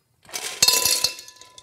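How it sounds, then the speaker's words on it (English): Ice cubes clink and crack as they tumble into a glass wine decanter used to chill white wine, a quick cluster of bright glassy knocks that rings out for a moment, close and fairly loud, with no talking. "So, observe, ice cubes."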